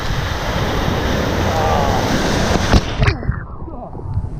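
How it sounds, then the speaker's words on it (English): Big ocean waves break and wash up on the beach at San Pancho, Mexico, a steady loud surf roar with wind noise, then a heavier crash near the end before the wash recedes. "look at that big wave"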